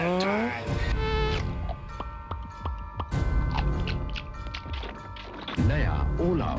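Mosquitoes whine in a cartoonish, close-up mosquito repellent commercial, their buzzing weaving among sharp whacks, swoops and crashing effects, with voices speaking over parts of the busy mix.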